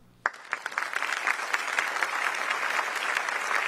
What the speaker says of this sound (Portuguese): O Papa foi aplaudido.